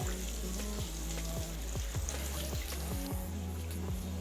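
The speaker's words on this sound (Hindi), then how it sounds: "2 मिनट के लिए हम अदरक और जीरे को फ्राई करेंगे।" Ginger and cumin sizzle in hot oil in a pan, a continuous crackling fry punctuated by repeated low knocks of a utensil against the pot.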